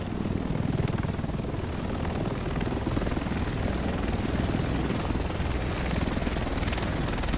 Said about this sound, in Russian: Вот и вертолет.